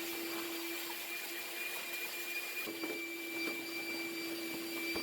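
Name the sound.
vacuum cleaning a dryer chute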